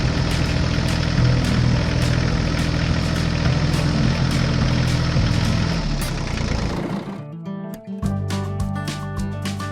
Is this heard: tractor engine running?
yes